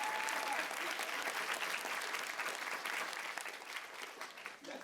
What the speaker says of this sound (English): Round of applause for Luke.